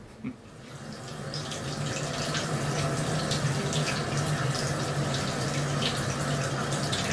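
A squirrel hide tanned with eggs is rinsed under running water, which gives a steady close rushing flow from a tap that starts quickly and holds for about seven seconds.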